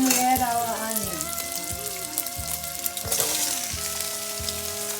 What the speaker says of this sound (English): all we want to do is get it a little bit of brown here